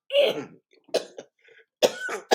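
Several coughs close to the mic: a harsh opening burst, then a few shorter hacking coughs in quick, uneven succession with brief pauses between.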